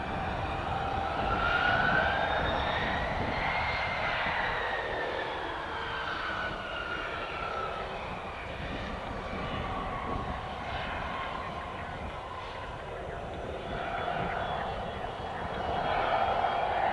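A Beechjet business jet takes off from runway 8 right at Spirit of St. Louis Airport: a sustained engine roar with sweeping turbine whine that rises and shifts, steady throughout, with faint voices mixed in.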